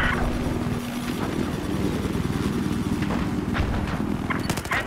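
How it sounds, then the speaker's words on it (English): Enemy helicopter in the video game Battlefield 4, a steady loud rotor chop layered under dense battle noise with scattered gunfire bursts. "I spotted an enemy helicopter."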